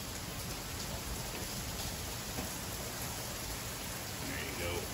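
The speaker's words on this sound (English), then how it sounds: "We're getting quite a bit of rain right now." Heavy rain pours steadily outside, a dense, even hiss of drops on surfaces that fills the whole stretch at a constant loud level, with no voices over it.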